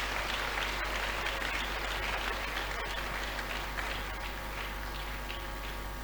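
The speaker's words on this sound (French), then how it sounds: "Let's clap to Jesus as they come." A large crowd at an evangelistic crusade in Douala applauds in praise of Jesus; dense, steady clapping fills the space, slightly reverberant and continuous, fading a little toward the end.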